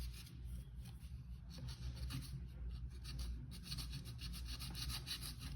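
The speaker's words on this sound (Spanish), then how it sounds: "Con el cuchillo artesanal vamos a quitarle ese volumen que está allí, de esta manera." A craft knife shaves excess bulk from a shoe lining in a quiet workshop, producing soft, close, continuous scraping and rubbing strokes at a low level.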